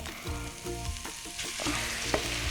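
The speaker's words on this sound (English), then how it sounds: "So next you're gonna put in your minced meat." Minced meat sizzles and crackles in melted butter in a pan, a busy close frying hiss with scraping stir sounds and no talk.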